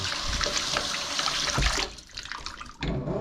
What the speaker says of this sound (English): And give it a rinse down.